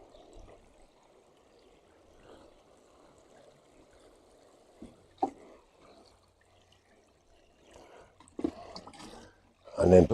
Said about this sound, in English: So we're just going to give it a gentle water.